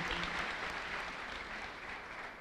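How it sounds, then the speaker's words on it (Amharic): Congregation at a church service applauding steadily for a man, a dense, sustained wash of clapping throughout with a faint voice underneath. "አጨብጭቡለት ለወንድም።"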